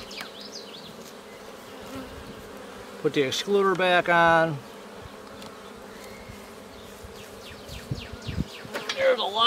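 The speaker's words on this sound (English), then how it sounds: "There's a lot of bees." Honey bees buzz steadily and densely around an open hive during a June hive inspection, a constant hum with a person speaking briefly over it.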